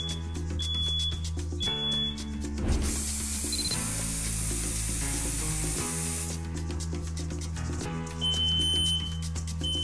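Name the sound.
smoke detector alarm ringing after smoke test spray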